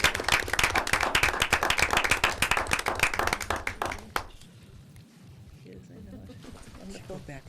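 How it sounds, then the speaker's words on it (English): A round of applause fills a school committee meeting room, dense steady clapping from a seated group for about four seconds before cutting off to quiet room murmur and faint voices. "Round of applause."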